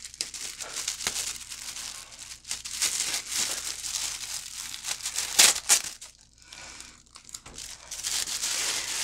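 Paper crinkling as a small-business package is opened, irregular bursts of rustling and crumpling up close, loud and busy with brief pauses between handlings.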